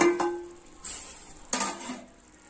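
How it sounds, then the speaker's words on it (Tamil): Lid lifted off a pot of chicken biryani, a 1 kg batch, with a short metallic clank followed by two scraping, clattering bursts of stirring, fairly quiet and close, with no voice. "மூடி திறந்து பார்க்கலாம்"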